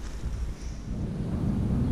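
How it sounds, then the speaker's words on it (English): Wind buffets an outdoor microphone at an earthbag workshop foundation site, a steady, loud rumbling roar with no other clear sound. "Sorry about the wind again."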